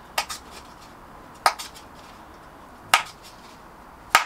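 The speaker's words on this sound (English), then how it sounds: "before you plant anything in it, make some holes in the cup" Holes are punched into a plastic cup-style pot before planting, four sharp cracking clicks spaced about a second and a half apart against a quiet background.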